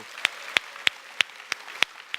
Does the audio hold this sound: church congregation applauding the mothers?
yes